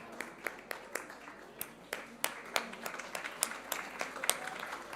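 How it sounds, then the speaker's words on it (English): An audience applauding award winners at a science and astronomy festival, a fairly faint crowd of scattered claps that builds a little toward the end. "give them a big round of applause"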